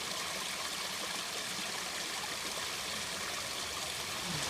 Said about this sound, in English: Hopefully the water's running.